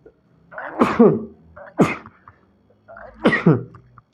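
Three sharp, close-up sneezes burst out in quick succession, each a loud explosive gasp and release, during a biology revision lesson, with no talking in between.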